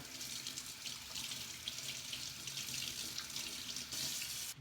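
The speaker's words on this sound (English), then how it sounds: "rinse it under cold water" Steady rushing of cold tap water splashing over a brined pork roast in a sink, continuous and close, with no talking.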